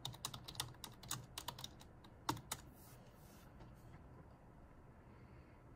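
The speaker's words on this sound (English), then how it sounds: "Hold on, let me type it in." A computer keyboard clicks in a quick burst of keystrokes as a search is typed, followed by one sharper tap and then a quiet stretch of faint room hum.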